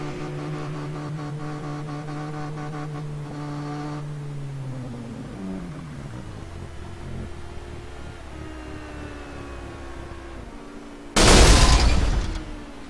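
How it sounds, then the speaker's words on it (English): A race car engine drones and winds down, then a sudden loud, harsh burst of noise erupts near the end as the engine fails. "Oh, and it sounded like Darren's engine just let go."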